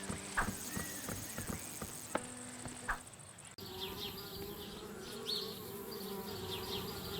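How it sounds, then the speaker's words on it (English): Bees buzz around a treehouse in a video game, a droning, wavering hum that grows stronger in the second half, mixed with clip-clop-like clicks and other game sounds earlier on. "Darn bees. Trying to move into our treehouse."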